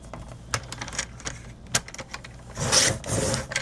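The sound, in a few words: paper trimmer cutting paper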